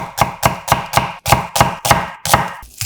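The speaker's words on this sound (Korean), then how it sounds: "익으면 달큰해지는 양파 반개는 살짝 굵게 채 썰어주고" A knife cuts half an onion into thick strips on a board, with about eight crisp, evenly spaced chops ringing out close and loud, and no one talking.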